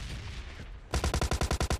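MP5K submachine gun in the video game PUBG Mobile Lite firing a quick rhythmic burst of about a dozen sharp shots, loud and close, after a brief stretch of background noise.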